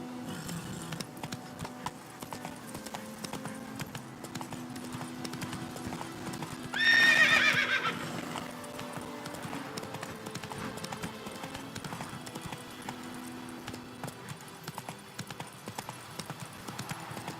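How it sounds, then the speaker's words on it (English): A horse in The Witcher 3 game clip-clops along in a steady, moderate hoofbeat rhythm, with a loud whinny rising midway over the quieter background. "Come on, Roach. Whoa there, Roach."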